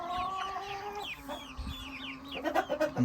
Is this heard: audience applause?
no